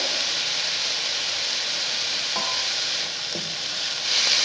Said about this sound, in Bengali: এবার নেড়ে চেড়ে ঢাকা দিয়ে রাখবো।